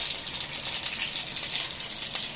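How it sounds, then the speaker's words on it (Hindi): Mustard seeds sizzle in hot oil in a kadhai, a dense, steady crackling hiss with small pops throughout, close and moderately quiet, with no voices. "ऑयल गर्म हो गया, हम इसमें राई डाल देंगे"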